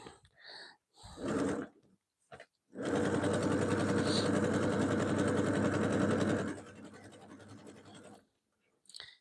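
A sewing machine runs a steady stitching burst of about four seconds close up, bracketed by short starts and quiet handling noises, stitching a sack seam on bobbin thread.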